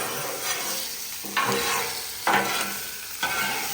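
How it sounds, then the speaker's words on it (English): Steak and vegetables sizzle steadily in a hot pan while being stirred together, with three louder scraping, tossing bursts breaking through the constant frying hiss; no one speaks. "I'm going to just combine everything, the steak, the vegetables"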